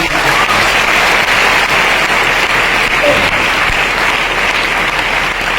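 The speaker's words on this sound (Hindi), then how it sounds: "तो जोरदार तालियां एक बार अरुण" Audience applause for Arun at a trading company promotion speech event in India, a loud, dense, continuous wash of clapping with little variation throughout.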